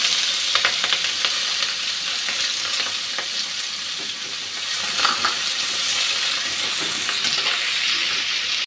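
Onion and green chili fry in oil in a pan for a Bengali fish and taro curry, with a loud, continuous close sizzle and soft stirring scrapes throughout.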